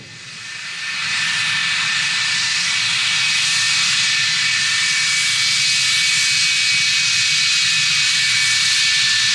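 A fixed-wing aircraft lands at RAF Cottesmore, its engine noise swelling within the first second into a loud, steady broadband roar with a whining tone, holding close and unbroken to the end with no talk.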